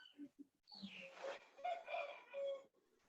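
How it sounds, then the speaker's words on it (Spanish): A rooster crows faintly in the background of an online class, its call rising and falling over roughly two seconds, with brief soft noises just before it. "que hasta el gallo lo escucho cantar"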